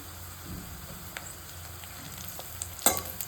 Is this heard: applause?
no